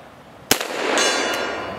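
A single sharp report from an 1895 Nagant revolver, loud and close, followed by a lingering outdoor echo and rumble that trails off over about a second.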